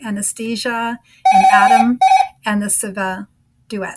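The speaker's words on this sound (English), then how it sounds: "Sorry about the phone there." A telephone rings aboard the Costa Fascinosa cruise ship, one steady electronic ring lasting under a second and mixed in with ongoing speech.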